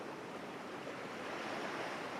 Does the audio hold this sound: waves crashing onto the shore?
yes